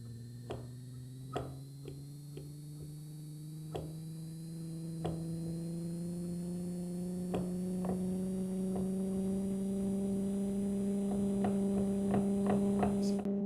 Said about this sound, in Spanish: Me quitaré el micrófono para que escuchen mejor el motor.